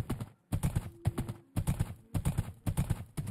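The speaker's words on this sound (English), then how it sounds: "We have two horses in here." Minecraft horses clip-clop in quick, regular bursts of hoofbeats, loud and close, repeating in short runs with brief pauses between them.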